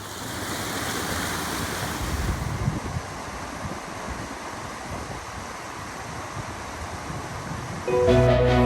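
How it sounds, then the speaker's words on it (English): Mountain creek water in Great Smoky Mountains National Park rushing and gurgling steadily over rocks, a dense continuous splashing flow, close and constant, with a brief change in tone near the end. "The gentle gurgle and occasional splashes form a natural symphony that changes with the weather and time of day."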